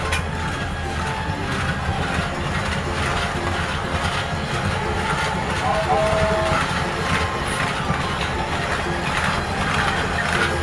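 Toy train rolling along a play railway track in a children's toy setup, giving a steady rattling clatter throughout, with a voice and an adult's talk over it.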